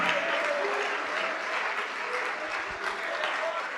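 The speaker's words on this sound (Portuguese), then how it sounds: "Vamos aplaudir mais, igreja." A church congregation applauding during a worship service, a dense, even wash of clapping that holds steady with faint voices underneath.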